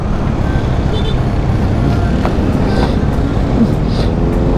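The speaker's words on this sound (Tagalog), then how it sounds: "Grabe talaga yung traffic dito." Heavy road traffic in Manila forms a dense, continuous roar of engines and tires, loud and close, with no break and a faint horn-like tone briefly rising above it.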